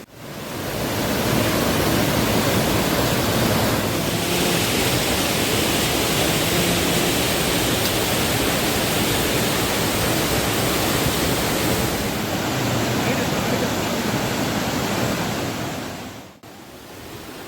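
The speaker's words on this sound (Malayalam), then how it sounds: "ഇതിൻ്റെ മുകളിലായാണ് പാറക്കെട്ടുകൾക്ക് നടുവിലൂടെ വെള്ളം കുതിച്ചൊഴുകുന്ന" Water rushes over rocks at Kadavupuzha waterfall in Kottayam, Kerala, making a loud, continuous roar that stays steady throughout, swells slightly near the middle and drops off briefly near the end, with no talking.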